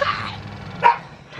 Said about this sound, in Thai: มีเสียงหมาเห่าด้วยอะ